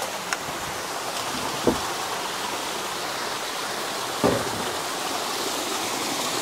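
A flowing stream rushes steadily in a broad, constant wash of water noise, with a couple of brief low thumps standing out, no voices.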